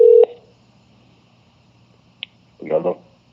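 Telephone dialing tones play while someone calls back, a long beep at the start, then a short tick and a brief burst of tones, with quiet low hum between them.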